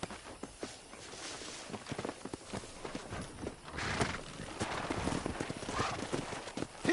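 Wild horses in the Red Dead Redemption game, hooves clip-clopping steadily through the whole stretch with occasional neighs, fairly close and moderately loud over ambient game noise.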